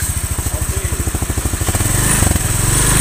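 A Honda Vario scooter engine with a spraying radiator and poor coolant circulation chugs at a steady, pulsing idle, then is revved into a louder, sustained roar, close up.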